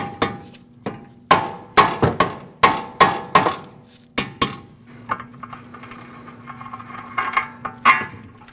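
A hammer lightly taps a suspension joint on a 2014-2023 Jeep Cherokee front strut assembly, a series of sharp metallic clinks in quick succession with brief pauses, each strike ringing faintly.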